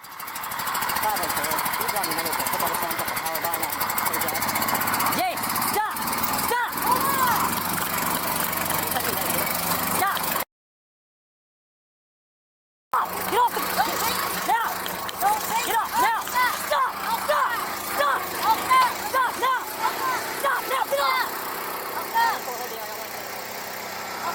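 A riding lawnmower engine drones steadily at close range, broken by a brief gap of silence before the rumble resumes with sharper, uneven bursts as it accelerates.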